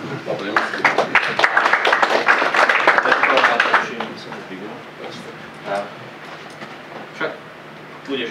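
An audience breaks into a short burst of close, lively clapping that fades after a few seconds, followed by quieter room sound with a few scattered claps and voices.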